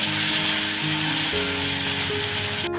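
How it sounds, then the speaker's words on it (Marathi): Chillies, cinnamon bark and cashews fry in oil for a corn masala, producing a dense, continuous close hiss with a steady tonal hum running beneath it throughout. "मिरची टाकते दालचिनीची साल टाकते हे काजू टाकते हे चांगलं मी तेलामध्ये परतून घेणार आहे"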